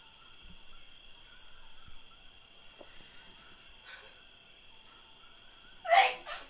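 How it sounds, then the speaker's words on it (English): One loud sneeze bursts out near the end over a quiet background with a steady high whine, followed by a brief smaller burst; a softer sneeze-like puff comes earlier in the clip. "Such a loud sneeze."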